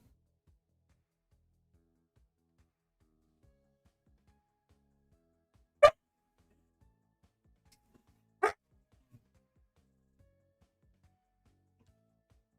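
A dog gives two short, sharp barks a few seconds apart, fairly close and loud against an otherwise quiet room.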